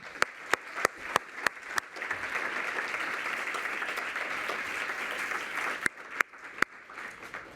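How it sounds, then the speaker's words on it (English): Audience applause at a women's initiative launch summit: a few sharp opening claps swell into about four seconds of dense, sustained clapping from a large room, then fade back to scattered single claps. "You really deserve a big round of applause."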